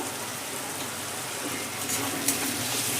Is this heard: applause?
no